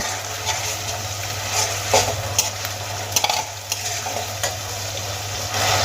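Grated ginger and onion frying in oil in a pan for a fish head curry, with a steady sizzle under sharp scrapes and clacks of a stirring utensil against the pan.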